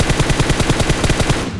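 Rapid close gunfire from a K9 rifle in the PUBG Mobile video game, a loud fast string of around twenty evenly spaced shots that cuts off at the end.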